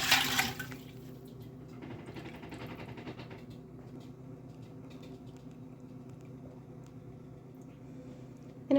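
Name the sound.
ladling whey off cheese curds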